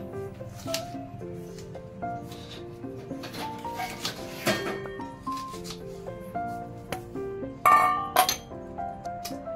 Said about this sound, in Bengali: চকচকে বাটি এদিকে রেখে দিই